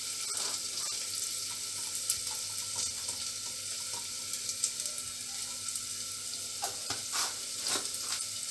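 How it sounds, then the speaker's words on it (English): Quinoa and lentils frying in a pan with a little asafoetida, giving a steady soft sizzle with faint scattered crackles and clinks, close and fairly quiet, with no talking. "I will fry it for 1 or 2 minutes."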